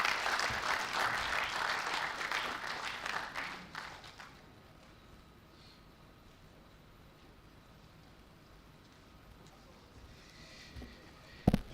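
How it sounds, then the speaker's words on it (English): An audience at an NCC Digital Economy Awareness event breaks into loud, dense applause after a special address, clapping for about four seconds before it fades to quiet room tone. "I think she deserves a better round of applause for that special address"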